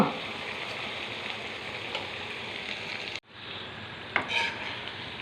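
Duck meat frying in hot oil, a loud, continuous sizzle heard up close, briefly dropping away partway through, then resuming with a stirring scrape.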